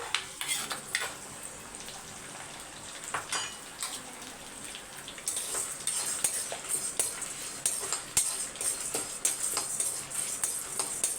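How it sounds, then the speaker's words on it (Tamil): Garlic and green chili sizzle in hot oil in a pan, a steady crackling fry with occasional scrapes and metallic clinks of a utensil, which grows denser and brighter partway through, close up with no voices. "நான் ரெண்டு கட்டி பூண்டு உரிச்சு வச்சுருக்கேன் அதையும் சேர்த்துக்கோங்க பூண்டு பாதி வதங்கட்டும்"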